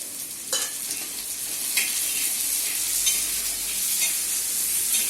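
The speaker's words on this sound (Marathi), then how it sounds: "थोडा कांदा लालसर झाला, थोडासा लालसर होऊन द्यायचा, कच्चं ठेवायचं नाही. त्याच्यामध्ये टॅमॅटो टाकायचा." Tomato added to browned onions in a hot pan, stirred with a steady bright sizzle and a few sharp spoon scrapes, close and alone without talk.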